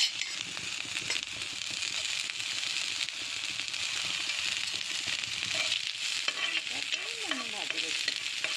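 Dried fish fry in hot oil for an Assamese dry fish chutney, giving a steady close sizzle with small crackles and occasional stirring scrapes, alone without talk.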